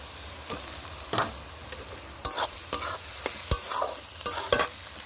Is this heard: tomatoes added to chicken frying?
yes